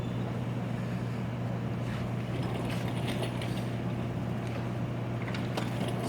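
A Laserstar laser welder running, making a steady low mechanical hum with faint airy hiss and a few soft clicks, constant and fairly quiet throughout with no voices.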